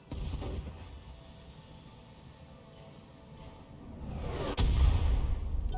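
Thumper artillery fires in the video game BattleTech, a faint rumbling backdrop building to a single heavy low boom near the end, followed by a sustained deep rumble.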